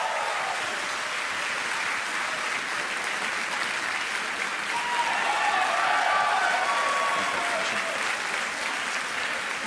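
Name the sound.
applause at SpaceX launch stage separation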